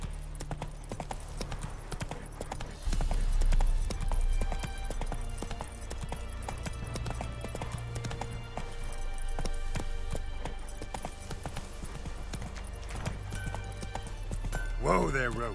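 Hooves of Roach the horse clip-clopping in The Witcher 3, a steady rhythmic trot heard under game music, with a brief whinny near the end and someone talking.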